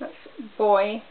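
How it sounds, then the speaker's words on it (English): A seagull cries out in the background, a loud, wavering call lasting about half a second that comes right after a few brief spoken words. "So if you can hear a seagull in the background of this,"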